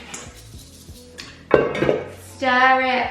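Spatula scraping cupcake batter from the sides of a mixing bowl, a couple of faint taps followed by louder scraping and clinking against the bowl, then a sustained tonal sound near the end, with a voice faintly in the background.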